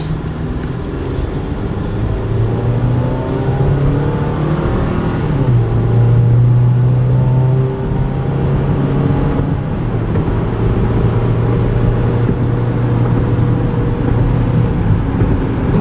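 A repaired salvage 2012 Chevy Equinox drives along with a steady, loud engine and road hum, its pitch rising and falling gently as it travels, with no talking.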